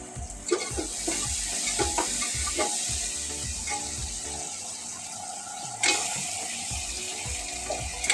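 Onions already fried in a home kitchen, with chicken meat going into the hot pan, give a steady sizzle and frying hiss with repeated stirring scrapes and knocks, one louder clatter midway; nobody speaks.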